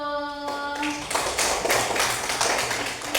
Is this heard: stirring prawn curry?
no